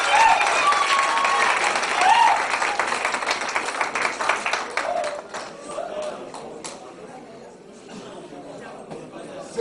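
Crowd applause with claps and cheering in an indoor hall at a civil wedding ceremony, greeting the arriving sub-prefect; loud and sustained at first, thinning out toward the end, with voices mixed in.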